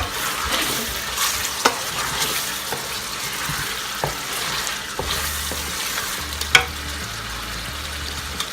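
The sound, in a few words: stir frying spring onions and parsley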